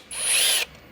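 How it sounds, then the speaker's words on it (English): A ratchet with a 10mm socket spins out an ignition coil bolt on a 2001–2006 BMW 325xi. One close, bright whirring burst lasts about half a second, then stops abruptly. "slide that lock up using a 10mm socket"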